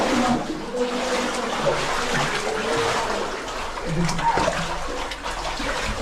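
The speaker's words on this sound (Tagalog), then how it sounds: "Tubig. Tubig," Water flows in a steady, broadband rush that runs unbroken from start to finish, with faint voices surfacing now and then.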